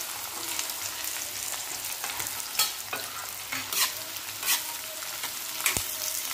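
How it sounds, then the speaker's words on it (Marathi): Sliced onions fry in oil for a dhaba-style cashew curry, a steady close sizzle punctuated by stirring scrapes and occasional louder crackles. "आता ह्याच तेलामध्ये आपल्याला कांदा भाजून घ्यायचा आहे।"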